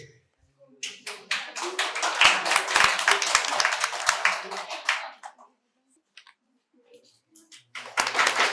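An audience at a quiz competition in a medical college hall breaks into dense, loud applause that swells and then fades to silence, followed by a fresh burst of clapping; a voice speaks briefly at the start.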